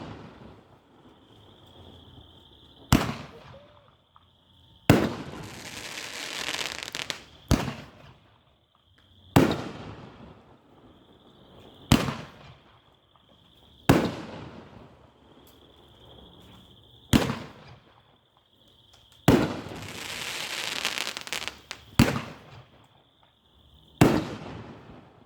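Precious Metals consumer firework cake firing a series of about ten sharp loud launches and bursts at irregular intervals, each with a crackling tail, heard outdoors without talk.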